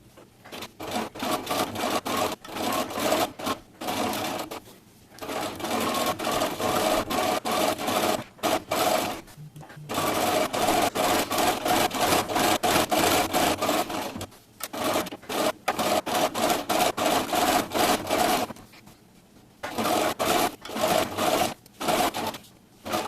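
A sewing machine stitches through a fabric fall placemat in rapid mechanical bursts, loud and close, stopping and restarting several times with short silent gaps between runs.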